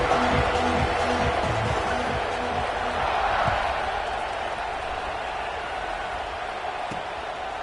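Football stadium crowd roaring steadily at kickoff after a touchdown, a dense, loud wash of massed voices filling the whole span, with faint broadcast commentary mixed underneath.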